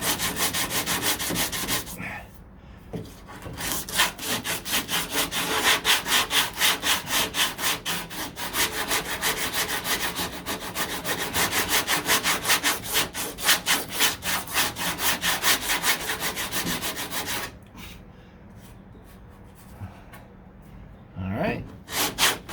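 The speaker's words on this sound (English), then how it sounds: "So you want to take some sandpaper." Sandpaper worked by hand over a fiberglass door panel of a 1969 C3 Corvette, rapid rhythmic back-and-forth scratching strokes in long sustained runs with short pauses and a few breaths, close and steady.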